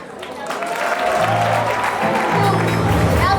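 Audience applauding at a beauty pageant, a steady dense patter of many hands that starts moderate and swells louder, with a low musical drone and chatter underneath.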